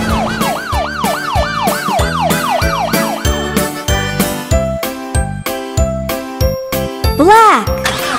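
A cartoon ambulance siren wails in repeated rising and falling sweeps over bright, jingly children's music, then breaks off as the music continues with chimes and a final short siren swoop.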